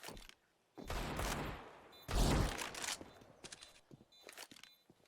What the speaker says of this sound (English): Zen firing away with the Deagle.